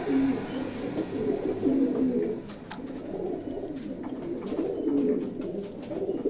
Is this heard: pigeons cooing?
yes